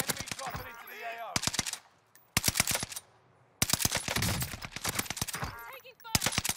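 Gunfire in Call of Duty: Warzone: bursts of rapid automatic shots broken by brief pauses, loud and close, with players talking over the shooting.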